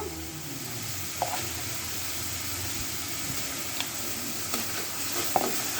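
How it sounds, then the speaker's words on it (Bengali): Onions frying in a pan for a fish and papaya curry, a steady close sizzle with a few faint stirring clicks, no voices. "আমি এখন একটু পেঁয়াজগুলা ভেজে নেব।"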